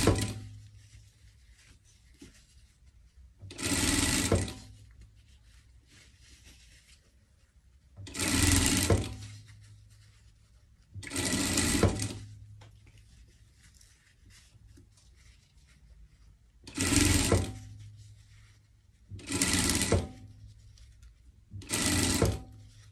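A sewing machine stitches a ruffle onto a Christmas pet dress in several short whirring runs, each a few seconds long and separated by quiet pauses, close and clear with no voices.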